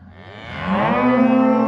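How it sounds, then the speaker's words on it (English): Cattle on a South Dakota ranch: cows and calves bawl and moo close by as calves are turned in with the cows to pair up, one loud drawn-out moo building and holding over overlapping lower calls. "So we're just kicking calves up here in with the cows"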